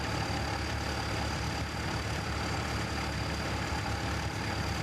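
A four-wheel drive tractor engine runs at a ploughing match, a steady, faint, even drone and rumble with no changes in pace or talk over it.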